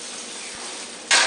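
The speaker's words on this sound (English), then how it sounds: "You can hear it sizzling." Onions dropped into a very hot oiled pan, with a steady broadband hiss that jumps to a loud, bright sizzle near the end as they hit the oil.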